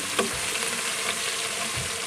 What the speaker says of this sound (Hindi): गोल्डन ब्राउन होने तक मैं लहसुन अदरक के पेस्ट को भूनूंगी